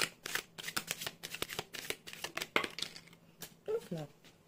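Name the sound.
tarot cards being shuffled for the next card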